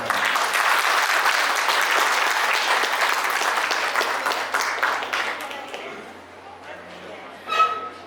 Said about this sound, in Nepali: तपाईँले ताली दिनुहोस्।